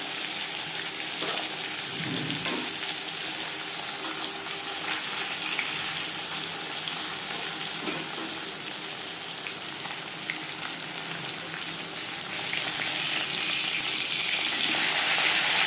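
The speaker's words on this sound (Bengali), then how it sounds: "পরিমাণ মতো রিফাইন্ড অয়েল গরম করে নিয়েছি দিয়ে দেবো মাছ" Pomfret fish frying in hot refined oil, a steady dense sizzle and crackle that runs continuously throughout, close and fairly loud, swelling slightly toward the end.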